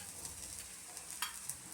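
Talipattu frying in oil on a hot pan gives a faint, steady sizzle with a few soft crackles and scrapes, quiet and close, with no voices over it.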